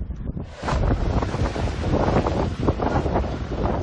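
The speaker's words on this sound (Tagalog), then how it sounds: "Malakas na hangin at hampas ng alon din ang sumalubong sa mga residente ng Dimasalang." Strong wind buffets the microphone over the roar of crashing waves in Dimasalang, loud and continuous after a brief quieter start.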